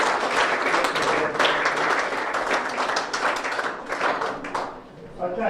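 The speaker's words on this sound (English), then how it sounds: "So give them a round of applause," Applause at a women's cricket prize-giving, sustained clapping from a crowd honouring volunteers, steady and fairly close throughout, thinning out near the end.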